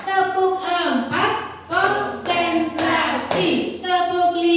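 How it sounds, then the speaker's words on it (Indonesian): A group claps along in short rhythmic bursts during a classroom warm-up clapping routine, the hand claps loud and close, mixed with and partly under children's and an adult's voices chanting. "yuk kita menghangatkan dengan tepuk-tepuk, ya"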